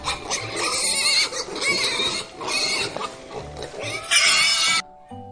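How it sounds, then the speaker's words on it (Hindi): A pig oinks and squeals in several loud, harsh bursts spaced by short pauses, heard close and alone before cutting off abruptly. "सुअर को इंग्लिश में कहते हैं पिग, पिग मीन्स सुअर।"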